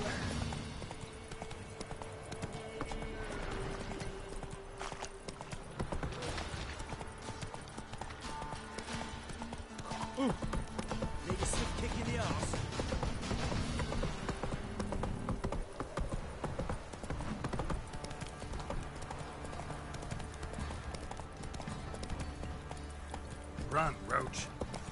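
Hooves of the horse in The Witcher video game: steady clip-clop of galloping for most of the stretch, with occasional whinnies, while a person talks over the game sound.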